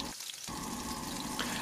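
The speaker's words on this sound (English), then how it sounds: "While I'm pan frying the shrimp, I add the mushroom right next to the shrimp." Shrimp pan frying alongside mushrooms for a stir-fried egg foo young, a steady close sizzle and crackle with a brief dip at the start, no talking.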